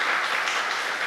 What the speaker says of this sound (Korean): 박수로 환영해 주시기를 부탁을 드립니다